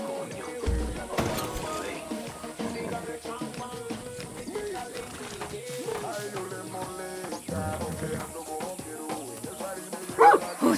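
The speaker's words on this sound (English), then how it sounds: "So good dog, huh?" A dog barks intermittently in Far Cry 6, its yaps and whimpers set against a busy game music and ambience bed, with a louder burst near the end.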